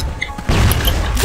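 A grenade goes off in a shooter video game, a sudden heavy boom that swells into a dense, sustained roar after a short quieter lead-in.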